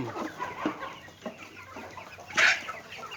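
Breeding-stock chickens cluck and murmur close by in short, scattered bursts, with one louder squawk near the end.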